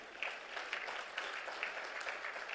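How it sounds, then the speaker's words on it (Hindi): Audience clapping for children at a corporate program event in India, a continuous patter of many hands, moderately faint and heard without any talking. "तो जोरदार तालियां इन बच्चों के लिए।"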